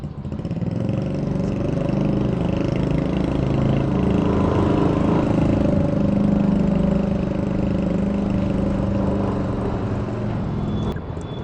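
A Yamaha Lexi LX155 scooter engine runs steadily and loudly up close, its low, even drone holding throughout with no talk over it.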